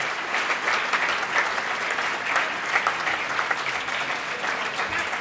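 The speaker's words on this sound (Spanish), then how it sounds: "un aplausito nada más para ustedes" A crowd at a presentation event claps warmly and continuously, a dense wash of hand claps with a few louder individual claps standing out, with no talk over it.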